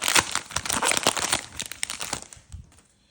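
A Disney Lorcana booster pack is torn open by hand, producing a loud, close burst of crinkling foil wrapper noise that continues for a few seconds before quieting.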